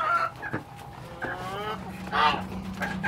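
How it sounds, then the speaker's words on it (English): Chickens cluck softly close by in short, scattered bursts, with a faint background hum. "So now it's time we let the chickens out."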